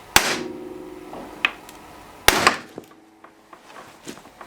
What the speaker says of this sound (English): we're just going to tap the spindle right here